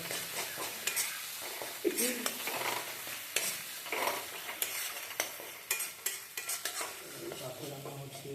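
Chicken frying in a pan as it is stirred, with soft sizzling under repeated scraping and clinking of a utensil against the pan, close and fairly quiet.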